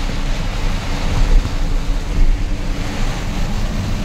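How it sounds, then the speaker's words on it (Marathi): Heavy monsoon rain heard from inside a truck on the road from Goa to Mumbai, a loud, steady roar mixed with low rumbling road and wind noise that swells slightly in places, with no talking. "जो काय पाऊस लागता ना बघा"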